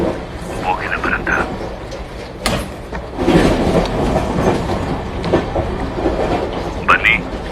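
A train rolls past near a road railway crossing, a steady rumble with rhythmic clickety-clack from the wagons and a few sharper knocks, while people talk nearby.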